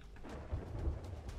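A low, steady rumble of thunder and rain from a storm at sea in the Sea of Thieves video game fills the background, faint and continuous, with no voices.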